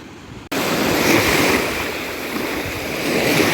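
Black Sea waves wash steadily onto the shore at Odesa on a foggy day, in a loud, continuous rush, with some wind buffeting the microphone.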